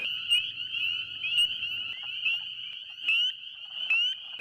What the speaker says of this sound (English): A lot of peepers, and I can hear at my 6 o'clock a lot of wood frogs singing